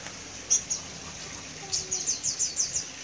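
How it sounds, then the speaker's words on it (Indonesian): Caged songbirds, including a ciblek, give quick high chirps and short twittering phrases, a few separate calls followed by a rapid run of notes, fairly faint over a quiet room background. "di sini saya punya banyak burung kawan-kawan"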